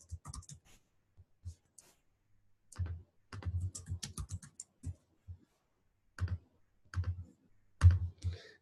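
Typing on a computer keyboard, close and crisp, in short clustered bursts of keystrokes separated by silent pauses.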